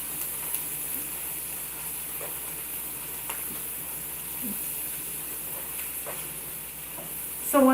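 Onions sizzling steadily in a pan as they blacken, an even, close frying hiss with a few faint scrapes of stirring and a louder clatter at the very end.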